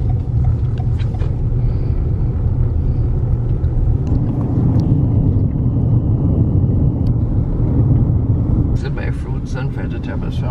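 A car travels along a road on the leeward side of an island in St Vincent and the Grenadines, its engine and tyre rumble steady and loud throughout, with people talking inside the vehicle.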